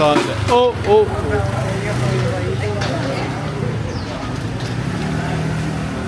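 Motorbikes passing along Hanoi Train Street, engine noise rising and fading beneath steady traffic hum while someone talks over it nearby.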